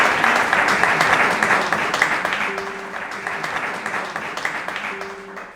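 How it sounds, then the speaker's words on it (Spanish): An audience at a cultural exhibition closing claps steadily for a musician, moderately loud and fading slightly, with a few brief tonal sounds emerging partway through. "Un aplauso para ella."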